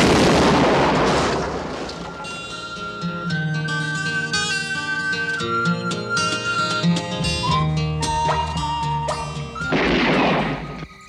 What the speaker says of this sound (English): I reckon it's a bomb.